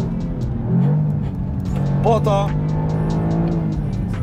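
A Toyota GR Yaris, the updated automatic version, idles and revs steadily while warming up, a low continuous engine drone running under someone talking close by.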